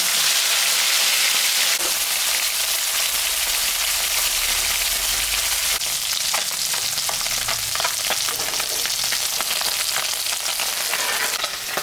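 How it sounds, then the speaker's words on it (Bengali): Fish sizzles and crackles steadily in hot oil for a Bengali-style mixed fish curry, a loud, continuous hiss with scattered pops and spatters throughout. "আমি এখন মাছটা ভাজবো।"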